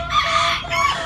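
A rooster crows once, close and fairly loud, in a brief, strained call.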